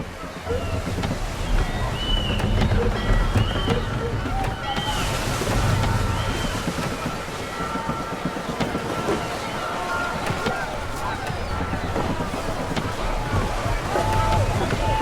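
In Assassin's Creed III, a sailing ship cuts through the sea as water sloshes steadily against the hull and wind blows, with crew voices shouting over the waves.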